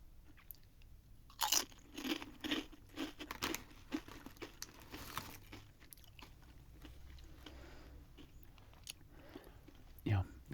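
Crunchy ketchup-flavored snack chips are bitten and chewed close up, with sharp crunches at first, then softer repeated chewing and some bag crinkling, faint and intimate.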